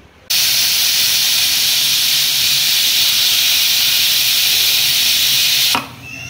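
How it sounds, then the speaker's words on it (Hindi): A pressure cooker with dal inside lets off a steady, loud hissing whistle of escaping steam that holds for several seconds before cutting off abruptly, with no talk over it. "तो अभी अभी बजी कुकर की सीटी और कुकर में क्या उबल रहा है"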